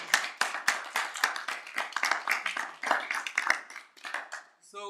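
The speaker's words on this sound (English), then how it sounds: "Please a round of applause for them again, please" Seminar audience clapping for undergraduate math speakers: a small group of distinct, crisp hand claps at an uneven rhythm, close and clear, thinning out toward the end.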